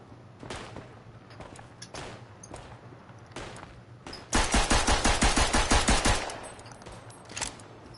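Machine pistol fire in a first-person war shooter game, scattered single shots followed by a loud rapid full-auto burst of about two seconds, then a few more isolated shots, no talk.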